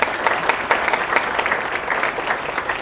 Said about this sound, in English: Let's give Todd Pederson a big round of applause